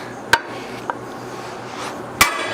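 Two sharp metallic strikes from a hammer on a metal T-post, about two seconds apart, with a fainter tap between them, over quiet background.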